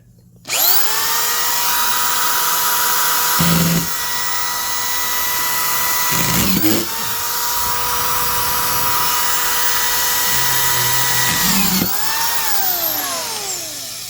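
A DeWalt DW257 deck screw setter drives deck screws in loud, sustained whining runs, revving up and winding down several times at close range with brief pauses between screws.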